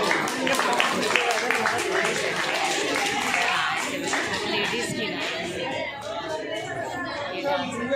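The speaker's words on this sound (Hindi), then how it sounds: "तालियां बोलते जाओ।" Guests clap at a home birthday party, with a busy, irregular patter of hand claps that fades slightly toward the end, under steady chatter and children's voices.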